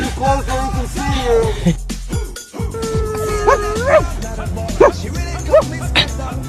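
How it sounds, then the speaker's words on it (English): Labrador dogs whimpering and yipping close by, with high sliding whines and short yelps repeating over several seconds, a voice talking under the noise. "Who's BB's best lab dog"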